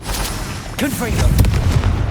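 Confringo blasting spell exploding in the Hogwarts Legacy video game, a loud booming impact with rumbling low-end debris that swells and rolls on after a short whooshing cast, a spoken voice briefly over it.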